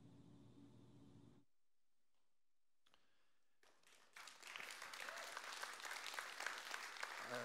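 Applause from a church congregation during a Father's Day sermon, starting faint after a quiet gap and building into dense, steady clapping that fills the second half.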